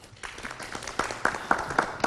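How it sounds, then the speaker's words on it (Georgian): Scattered applause from a studio audience on a Georgian talk show about violence against women, starting sparse and building into a few louder bursts of clapping over about two seconds. "აპლოდისმენტებს იმსახურებს"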